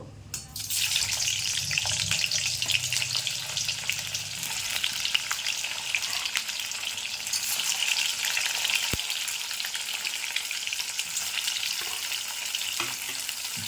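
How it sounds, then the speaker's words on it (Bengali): Chicken balls are dropped into hot oil and sizzle loudly and steadily at close range, with faint clinks now and then and no talk. "তেল গরম হয়ে গেছে। এবার আমি চিকেন বলগুলোকে ছেড়ে দেবো।"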